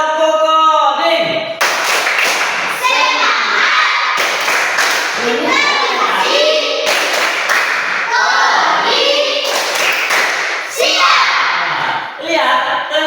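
Children clapping together in a rhythmic clapping game during a coding lesson in a classroom, bursts of group claps and taps with young voices chanting between them.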